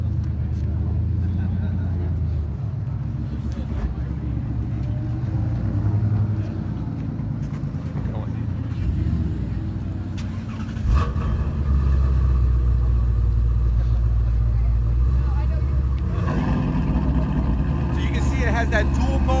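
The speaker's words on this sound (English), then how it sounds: "It's one of those exhaust notes that just makes the hair on the back of your neck stand up." A 2016 Ford Shelby GT350R with dual-mode exhaust idles and revs, giving a deep, rumbling burble that swells louder partway through, while a voice talks over it for much of the time.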